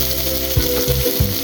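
Garlic and onion frying in a pan, a loud close steady sizzle with three quick low scraping strokes in the second half.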